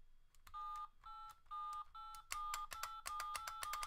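Electronic button tones from a ringing fold-out phone sound in steady beeps, first four evenly spaced held tones, then a quicker run of sharper, louder presses, close and clear with no talking.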